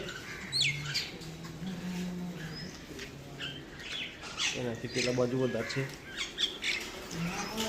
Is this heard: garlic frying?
no